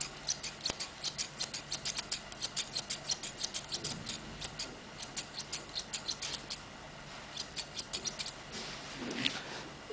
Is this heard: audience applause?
no